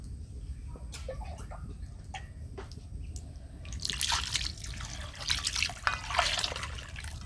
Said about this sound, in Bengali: আর এক মগ জল দিয়ে দেব।